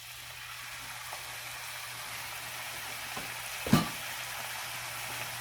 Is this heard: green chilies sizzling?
yes